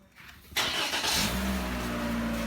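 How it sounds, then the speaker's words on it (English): A 2020 Toyota Corolla engine cranks and catches, then settles into a steady, loud idle that holds close by with no one talking, after fault codes were cleared on a car that had cranked without starting. "I'll erase all the fault code and start the vehicle again"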